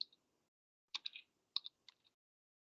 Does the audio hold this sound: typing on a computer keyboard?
yes